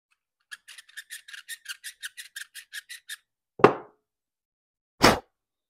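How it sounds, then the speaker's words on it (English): A brass cartridge case for .45 Cowboy Special is deburred, with about fifteen quick, evenly spaced scraping strokes followed by two louder knocks set apart by a pause, all in an otherwise silent setting. "Then deburr it a little bit."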